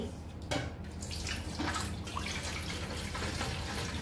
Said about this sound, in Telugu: ఇప్పుడు దీంట్లో నీళ్లు పోసుకోవాలి.